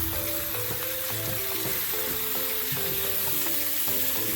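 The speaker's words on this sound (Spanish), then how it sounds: "Voy a esperar que se dore bien la parte de abajo, luego lo volteo y ahora le muestro." Chicken pieces browning in a pot for Dominican asopao give off a loud, continuous sizzle, with occasional clinks and shifting tones as they are turned over.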